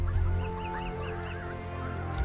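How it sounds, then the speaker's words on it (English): A chicken in the video game Lineage W clucks in a quick series of short, repeated notes over a continuous low musical background. "I thought I heard a chicken clucking"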